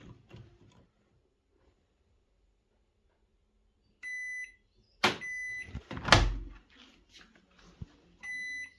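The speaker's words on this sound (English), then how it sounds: "We need to open the door." A Hisense washing machine with a drum that will not rotate gives electronic beeps, then its door is opened with a couple of loud clunks and clicks, followed by another beep.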